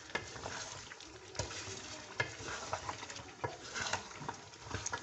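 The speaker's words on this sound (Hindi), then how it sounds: "मैं इसको अच्छी तरह भून लूँगी" Tomatoes frying in oil in a karahi for karahi gosht, a steady close sizzle with soft stirring scrapes and small irregular pops throughout.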